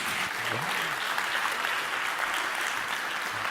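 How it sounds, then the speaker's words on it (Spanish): Audience at a science talk applauds a speaker being introduced, dense continuous clapping at steady moderate level, with brief low voices and a murmur underneath. "¡Un aplauso para Guillermo Peri!"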